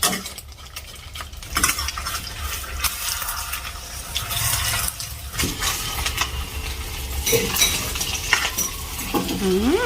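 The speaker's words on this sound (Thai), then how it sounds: "แล้วก็ไปเรื่อยๆเพื่อให้เนื้อแหนมเนี่ยเขาสุกไปพร้อมๆกับไข่" Fermented pork (naem) frying with egg in a pan gives a steady close sizzle with scraping stir sounds and clinks of a utensil, continuing without speech.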